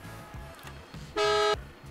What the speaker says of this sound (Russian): О, клаксончик здесь другой.